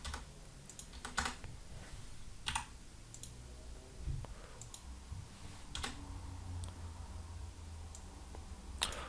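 Computer keyboard being typed on and backspaced, with quiet, irregular clicking keystrokes in small clusters over faint background hiss and no talk.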